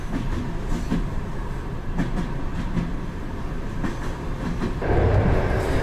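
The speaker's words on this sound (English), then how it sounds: "Wow, an old Soviet train." An old Soviet train rolls along its rails through the Ferghana Valley, giving a steady rumbling run with faint rhythmic wheel clicks, which swells to a louder, harsher roar near the end.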